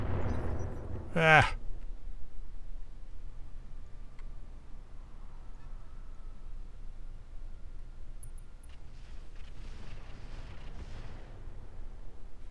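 A Thumper artillery piece fires in the BattleTech game RogueTech. One short, loud blast bursts out early, then fades into a low rumbling game ambience, with a brief voice exclamation nearby.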